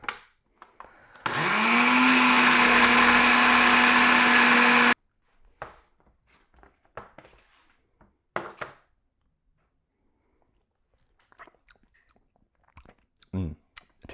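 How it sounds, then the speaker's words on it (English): A kitchen blender runs for a few seconds, whirring at a loud, steady pitch as it blends fresh parsley for a ranch sauce, then cuts off abruptly, leaving scattered small kitchen clatter and tapping. "Put this on the blender."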